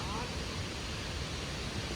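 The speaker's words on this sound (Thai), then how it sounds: "น้ำตกใหญ่มาก" Haew Suwat waterfall at Khao Yai in cold weather, its broad rushing water a constant dense hiss filling the whole stretch without break.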